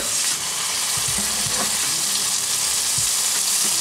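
Burger steaks frying in a drizzle of olive oil in a hot pan give a steady, loud sizzle with a few low clatters, no voices.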